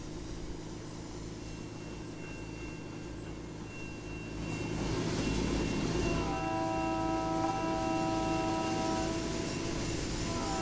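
GE 45 Tonner small diesel locomotive hauling a short train at about 20 mph in the Trainz 2022 simulator: a steady engine drone and rolling rumble that swells louder partway through, with layered tonal whines joining as the engines rev up.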